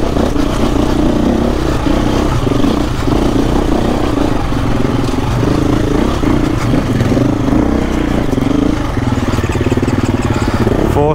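A 2024 KTM four-stroke dirt bike engine runs loud and close, with rough, pulsing revs and throttle blips rising and falling throughout, heard alone with no talk over it.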